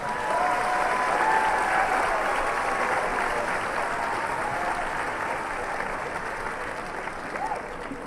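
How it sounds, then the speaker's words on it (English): Applause from a large audience at a middle school graduation ceremony, a loud, dense wash of clapping with some crowd noise that carries on for several seconds and slowly softens, with a voice heard faintly in the mix. "please hold the applause."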